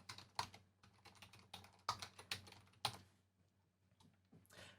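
Someone types an email address on a computer keyboard in quick bursts of close key clicks, then the keystrokes slow and thin out toward the end.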